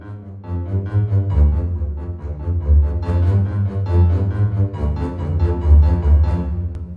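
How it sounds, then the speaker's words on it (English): Bernard Herrmann-style orchestral passage with piano, cello, bass and low strings playing dark, sustained harmonies, a steady full-bodied texture of repeated low chords and brighter piano attacks throughout, no voices. "Here we've got piano, cello, bass, piano, low strings."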